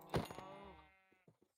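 A single sheep bleat in the Minecraft modpack ATM10, a wavering, fading call heard up close and alone, followed by a few faint clicks.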